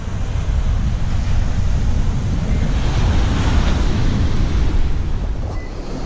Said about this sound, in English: It's bloody windy, rough and windy